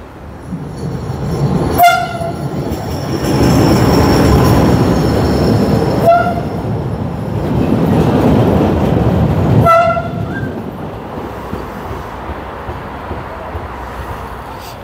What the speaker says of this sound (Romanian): Vine un tren.